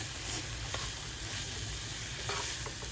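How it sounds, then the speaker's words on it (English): Shrimp fried rice stir fry in a pan with grapeseed oil, a steady close sizzle with occasional stirring scrapes on top, continuous and fairly loud, no talk. "I just put my stir fry in here"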